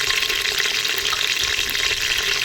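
Whole spices sizzling in hot oil in a pan on low heat while being stirred, a loud, steady, close frying hiss with no pauses.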